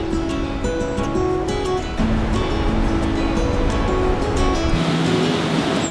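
South Falls, a 177-foot single-drop waterfall at Silver Falls in Oregon, gives off a steady, dense roar of falling water. The sound holds constant throughout, with no voices.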